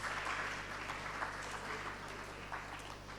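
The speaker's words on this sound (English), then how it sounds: "Please welcome him on stage with your applause." Faint, steady applause from an audience at an awards dinner, a soft wash of scattered clapping that holds at an even level, with a low hum underneath.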